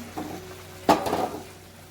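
Carrot halwa cooking in milk in a pan is stirred with a spoon, giving a brief scraping clatter near the middle over a low simmering hiss, with quieter stirring before and after.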